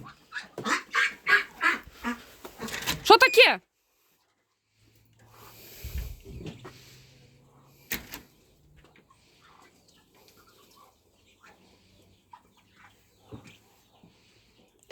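A drake quacking in a poultry pen, a dense run of loud, close calls for the first few seconds, then quieter scattered sounds and a brief sharp noise, with a low hum in the background.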